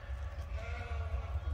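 A sheep bleats on a small farm, a drawn-out wavering call heard close by over low rumbling background noise.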